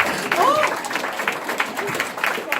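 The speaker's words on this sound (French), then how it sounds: "je vous demande d'applaudir Madame Arnica" Audience applause for a performer at a French stage show, a steady patter of clapping from the crowd with a brief whistle-like tone near the start, moderately close and continuous throughout.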